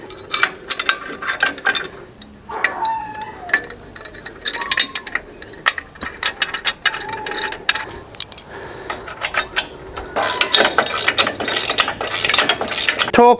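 Ratchet wrench clicking in quick bursts as bolts are tightened to torque on an ARK XO750 trailer jockey wheel bracket, close and sharp, with pauses and some handling clatter between runs.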